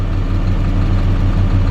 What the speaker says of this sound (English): And this is just basically with the idle of the engine itself.